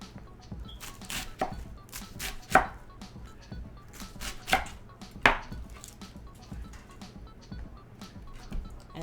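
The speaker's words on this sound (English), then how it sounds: "Cut our cabbage in half" A knife chops through a head of cabbage on a board, with several sharp cuts and thuds spaced a second or two apart over faint background clatter.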